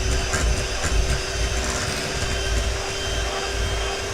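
Electric mixer blending blueberry muffin batter with sour cream and oil, a steady close whirring drone with a faint constant tone, running continuously without talk.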